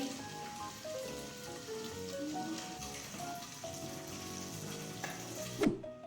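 Oil poured into a Thai-style dipping sauce for moo kratha, giving a steady close, rain-like sizzle and crackle that holds for several seconds with a brief louder clatter near the end.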